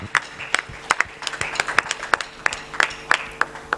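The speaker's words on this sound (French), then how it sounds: "Qu'on acclame très fort pour les rois des rois." A church congregation claps in a quick, uneven rhythm, sharp close hand claps repeating through the whole moment with a faint crowd murmur behind, no clear words spoken.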